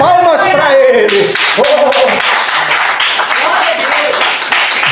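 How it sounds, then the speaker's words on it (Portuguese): A church congregation claps and shouts praise together during a worship service, with raised voices ringing over a steady wash of hand claps throughout. "Se você crê, então diga glórias bem alto e palmas para Ele"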